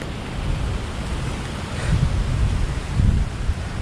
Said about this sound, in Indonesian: karena angin berembus cukup kencang, maka bikin time lapse aja di sini